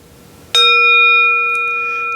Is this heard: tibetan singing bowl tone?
yes